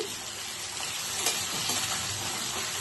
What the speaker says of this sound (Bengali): এই যে আলুগুলো ভেজে নিচ্ছি